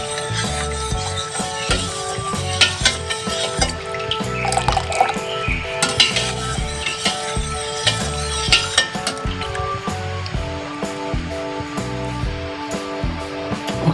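Creamy mango ice candy mixture being stirred in a pot until it thickens, with repeated clinks and scraping of a utensil against the pan over a steady background of kitchen noise and music.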